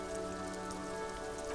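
Steady rain falling in the video game Disco Elysium, a dense, even patter on surfaces with a faint humming tone underneath, with no talking.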